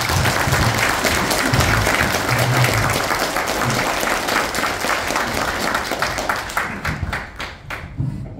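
Audience at a policy forum seminar applauds warmly, a steady, dense wash of many hands clapping that fades slightly toward the end.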